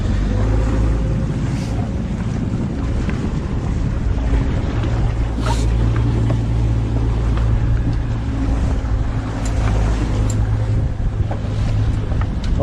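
Boat engine running out on open water, a loud continuous low drone mixed with wind buffeting the microphone and splashing water.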